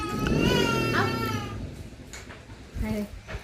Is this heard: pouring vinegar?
no